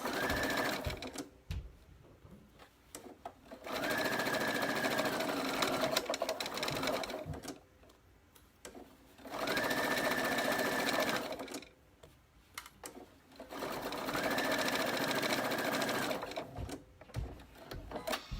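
A sewing machine stitches a jeans hem in three long, steady runs, each a close, even whir lasting several seconds, separated by short pauses with faint handling noise.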